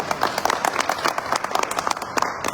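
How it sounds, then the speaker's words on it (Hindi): A crowd at an AWPL car-achievement event in Ghazipur applauds the gurus with loud, dense clapping, individual claps popping out of a steady roar. "तो एक बार सभी गुरुजन के लिए एक बार जोरदार तालियां।"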